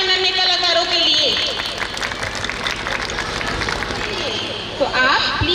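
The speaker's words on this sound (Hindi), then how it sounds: "एक बार जोरदार तालियां बजा दीजिए हमारे नन्हे कलाकारों के लिए।" Audience clapping and cheering at a school annual function for nursery to UKG performers, a dense wash of applause and crowd noise filling the hall, with a host's voice and music-like tones mixed in.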